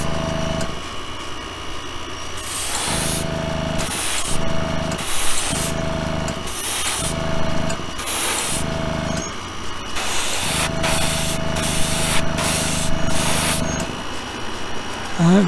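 Airbrush spraying Spaz Stix green-purple-teal color shift paint in light tack coats, a steady close hiss broken into repeated bursts of several seconds each, with no talking.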